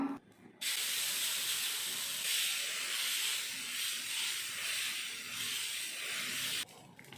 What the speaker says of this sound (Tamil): தோசைக்கல் சூடு இருக்குது. அடையை வார்த்தரலாம்.